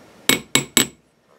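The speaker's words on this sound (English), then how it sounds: "This is a cute little machinist hammer." A small brass-head machinist hammer with a steel handle taps three times in quick succession, each strike a sharp, bright, ringing hit, with no voices.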